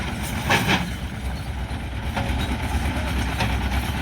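On a village road under repair, a construction machine churns with a continuous heavy rumble close by, with brief clanks and a faint voice in the background.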